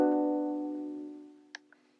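One plucked ukulele note rings clearly and decays slowly over about two seconds, followed by a couple of faint small clicks.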